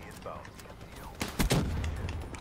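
Gunfire in Call of Duty Black Ops 3 multiplayer: a quick cluster of sharp shots near the middle, over faint background game sounds.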